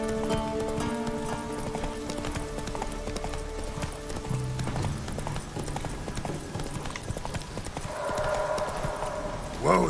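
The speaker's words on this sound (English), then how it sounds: "Whoa there, Roach" Horse hooves clip-clop steadily in The Witcher 3: Wild Hunt with game music and ambience, and near the end a voice calls out over the sound.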